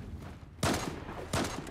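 Two sharp gunshot bursts ring out about a second apart over a quiet background hum, rapid fire in the video game Zula.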